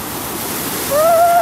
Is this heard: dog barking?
no